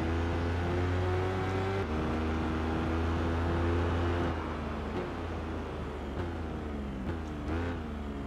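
Motorcycle engine in the Tourist Trophy racing game, a loud, steady high-revving drone that holds near and shifts pitch through the corners, with no talk over it.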